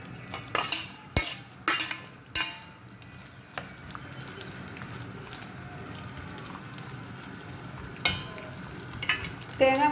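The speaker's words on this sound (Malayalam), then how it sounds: "തേങ്ങ വറുക്കുന്നതിനായിട്ട് കുറച്ച് എണ്ണ ഒഴിച്ച് ചൂടായി വന്നിട്ടുണ്ട് തേങ്ങ ഇട്ട് കൊടുക്കാം" Steady hiss of coconut pieces frying in hot oil, opened by a few sharp clinks and scrapes of a utensil against the pan, then a continuous sizzle.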